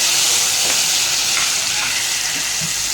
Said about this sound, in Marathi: लसूण फ्राय झालेलं आहे